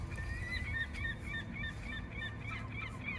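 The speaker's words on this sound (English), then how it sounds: "Seagull's here to greet us." A seagull calls repeatedly on the Portland, Maine waterfront, a series of short honking cries in a steady rhythm over the low rumble of a moving car.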